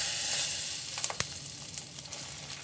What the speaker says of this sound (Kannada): ಮಿಕ್ಸ್ ಮಾಡಿಕೊಂಡು ಚೆನ್ನಾಗಿ ಫ್ರೈ ಮಾಡ್ಕೊಳ್ಳಿ ಎಣ್ಣೆಲ್ಲೇ